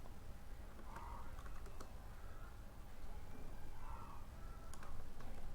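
Soft, distant clicking of a computer keyboard while typing CSS code, scattered keystrokes in small clusters over a low steady room hiss, faint and fairly far from the microphone.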